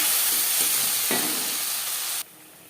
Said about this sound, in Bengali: পাঁচ ফোড়ন ভেজে নেওয়ার পর দিয়ে দেবো টমেটোর পেস্ট